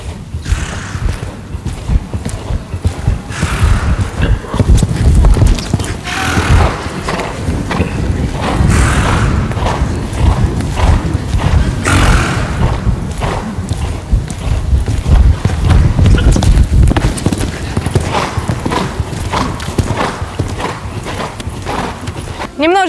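Horse hooves thud and clip-clop across a show jumping arena as the horse canters and clears training obstacles, rhythmic and close, with a rider talking over them throughout.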